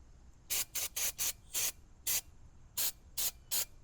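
Nine quick sharp hisses of brake cleaner sprayed onto a 2004 Toyota Tacoma brake rotor, close and loud, in short irregular bursts with quiet gaps between.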